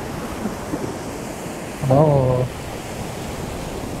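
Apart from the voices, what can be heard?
sea waves surging at Cola Beach, South Goa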